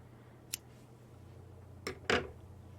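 Scissors trimming a crochet yarn tail from a magic ring on a small turtle piece: a single crisp snip, then two quick close cuts a moment later, against a quiet room.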